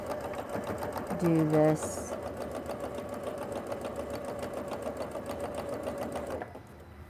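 A domestic sewing machine stitches quilt binding in a steady, close mechanical whir that runs for several seconds and then stops, while someone talks briefly over it.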